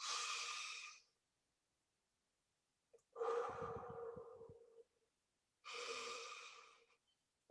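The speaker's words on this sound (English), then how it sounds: "There's this Navy SEALs breathing technique, which is breathe in for 4, or box breathing." Box breathing, the Navy SEAL technique, performed by one person: a long audible inhale, a held silence, a heavier exhale, then another inhale, each breath close and isolated.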